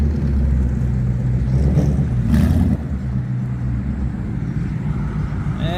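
Two Ford Mustang 5.0 Boss 302s on drag wheels roll into a San Antonio car meet, their V8 engines giving a deep, burbling low rumble that swells briefly with a rev, then settles into a steady idle.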